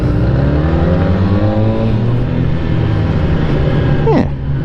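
A sporty motorcycle with upside-down forks accelerates and pulls away, its engine note loud and close with a steady rising drone before tailing off at the end.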